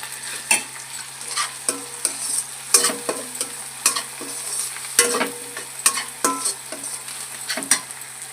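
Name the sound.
tempering spices frying in oil until browned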